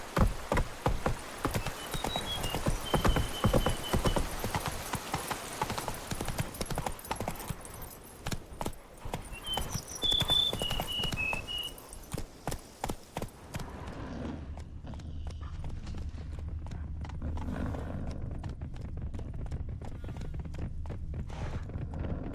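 Rapid clip-clop of a galloping horse in The Witcher 3: Wild Hunt – Blood and Wine, steady hoofbeats through the first half with a short whinny near the middle, then fading to a quieter rhythmic trot over low ambient rumble.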